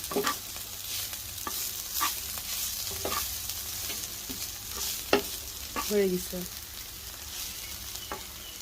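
Bitter gourd fries with onion and whole garlic cloves and is stirred. A gentle sizzle runs underneath while a spatula scrapes the pan now and then, with one sharper knock partway through. The stirring sounds close and moderately loud.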